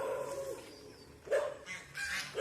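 A dog at a farmhouse barks a few faint, distant times over quiet background noise, with a yip-like call rising near the end.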